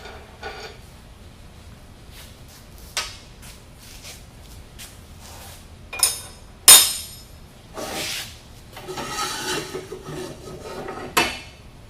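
A nut is worked loose on a Toro snowblower, giving scattered metallic clinks, taps and clanks from a wrench and parts, close by and irregular, with quiet pauses between the sharper knocks and no speech.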